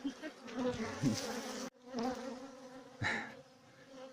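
Dense buzzing of many honeybees swarming close by at a hive in poor weather, steady and loud with brief swells, no talking.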